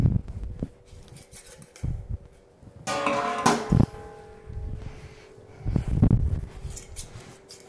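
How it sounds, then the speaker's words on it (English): A vacuum sealer pulls air from half-gallon glass jars of dried food with loose lids, giving intermittent whirring pump bursts, a longer mechanical hum midway and clicks of lids and handling, close and without talk. "when I pull a vacuum on this, I want that lid to pop up and the air to come out"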